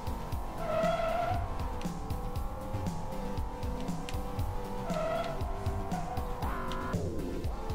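A racing car in the video game Formula Bit Racing drifts through corners, engine whining steadily while tires squeal in repeated bursts, loud and close throughout.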